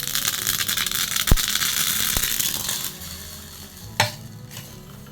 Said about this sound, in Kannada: ಆಯಿತು, ಒಗ್ಗರಣೆ ಹಾಕಿ ಆಯಿತು.